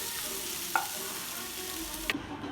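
Food fries in a pan with a steady, loud sizzle and hiss, broken by a couple of faint clinks of a utensil stirring it in a home kitchen.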